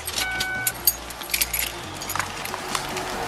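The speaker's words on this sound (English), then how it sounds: "Turn off the car and pass me the keys, please." A handful of car keys jangles and clinks up close as they are passed from a stopped car during a police traffic stop, light metallic rattles over a low idling hum.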